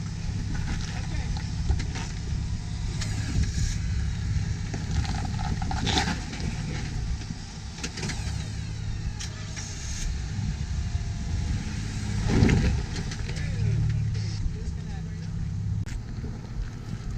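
A Jeep crawls up a rocky obstacle on Gold Mountain, its engine rumbling low and steady with occasional revs and scraping knocks from rock, while people talk faintly in the background.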